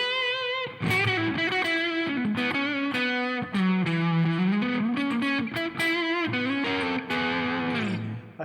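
Distorted electric guitar with Alnico 2/Alnico 3 pickups, both pickups mixed, played as sustained chords and melodic lines, loud and continuous with no talk.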